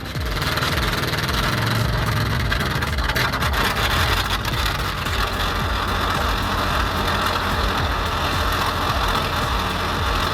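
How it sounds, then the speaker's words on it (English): A 1953 Caterpillar D8 bulldozer's heavy diesel engine roars to life steadily with a dense, rumbling drone and rattling vibration, loud and close throughout. "the sound of a 1953 Cat D8 roaring to life"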